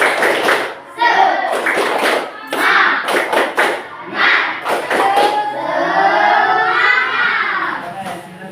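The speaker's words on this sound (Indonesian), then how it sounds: "Tepuk semangat." A group of children in a classroom claps out a rhythmic spirit clap, with bursts of sharp patterned clapping mixed with their chanting voices, loud and close.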